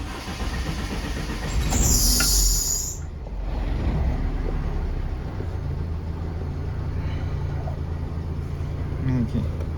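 A VAZ 2112 car with an idle-holding fault is started: a loud, high starter whine lasts about a second, then the engine settles into a steady, low idling hum.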